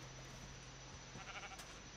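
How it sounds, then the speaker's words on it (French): Several faint sheep bleats from the game Minecraft sound over a steady background hum, around the middle of the stretch. "y a encore plein de petits moutons ici"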